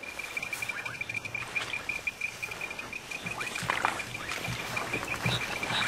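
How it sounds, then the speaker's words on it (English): Reed frogs give a steady, piercing metallic call that repeats continuously at a high pitch, with scattered chirps and clicks from other calling creatures in the background. "Those are the reed frogs that you hear in the background."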